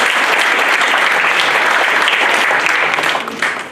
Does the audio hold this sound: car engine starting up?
no